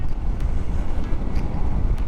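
Steady wind buffets the microphone with a constant low rumble and no gaps or pauses, on a cold mountain road stop at Marilaque.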